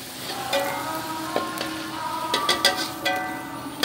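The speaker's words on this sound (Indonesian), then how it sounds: "Ini kita goreng sampai matang ya. Ini kita aduk-aduk ya, bolak-balik biar matangnya sempurna." Chicken liver and gizzard fry in hot oil with a steady sizzle, while a utensil stirs and turns the pieces, adding intermittent clicks and scrapes against the pan.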